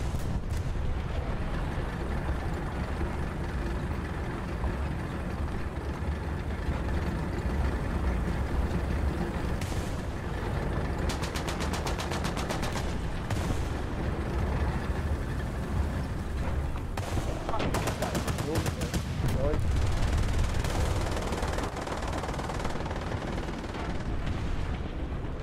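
Steady gunfire and heavy mortar or artillery blasts from the War Thunder combat game, a continuous dense barrage with sharper bursts around the midpoint and near the end, with a voice heard faintly at times.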